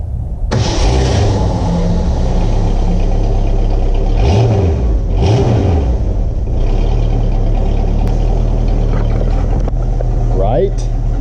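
A 1964 Ford Galaxie 500 with an American V8 and single exhaust fires up and settles into a loud, close, throbbing idle, with a couple of quick revs rising and falling midway.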